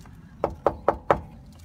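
Four quick, evenly spaced knocks on wood, close and crisp, with no talking.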